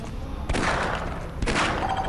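Automatic rifle fire in a first-person shooter match, two sharp bursts of rapid shots about a second apart over a low background hum.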